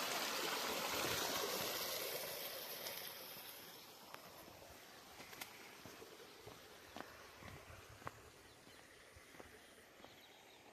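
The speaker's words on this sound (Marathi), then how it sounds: "इकडे पाणी मित्रांनो बाहेर पडतं" Hot spring water at Unhavare near Dapoli flows out toward a river, a soft steady rush that is louder for the first couple of seconds, then settles lower with faint scattered clicks.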